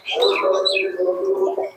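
Giribaz pigeons housed in a multi-storey loft of about thirty compartments, forty to forty-five birds, give a steady close chorus of cooing and chirping calls.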